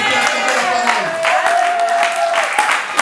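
Church congregation at a wedding service applauding, a steady wash of clapping from many hands, close and continuous, with voices and a sustained sung or called note running over it.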